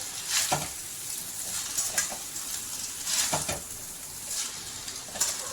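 Vegetable noodles are stirred in a hot pan, giving a steady soft sizzle broken by repeated scraping strokes of a utensil against the pan, close and with no one talking.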